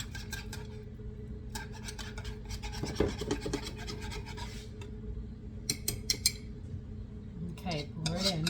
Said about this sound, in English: mixing with a spoon.